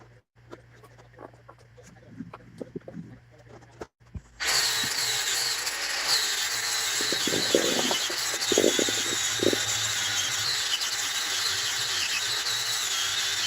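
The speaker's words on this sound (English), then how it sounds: "A lot of sanding." A steady, loud power sander whirs continuously on wood after a quiet start, its hiss and buzz holding level for several seconds with faint voices underneath.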